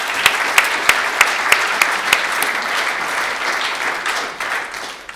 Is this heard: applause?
yes